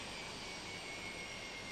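An aircraft carrying the Chinese delegation to the 1997 Hong Kong handover ceremony drones steadily, a faint, continuous engine roar heard at a distance.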